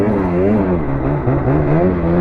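Lynx snowmobile engine held on gentle, steady throttle in steep technical snow terrain, loud and close, a continuous whirring drone whose pitch wavers slightly up and down.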